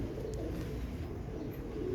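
Teddy pigeons for sale cooing softly and continuously, a low steady murmur of several birds close by with no talking.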